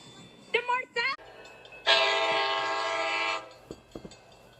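A train horn gives one long, steady, loud blast after a brief bit of speech, with low rumbling rail noise underneath and a few faint clanks afterward.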